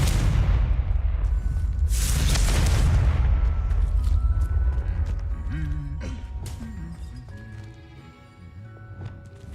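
A Confringo blasting spell goes off in Hogwarts Legacy, a loud, heavy explosive boom with a rumbling tail that fades over several seconds, while game sounds continue underneath.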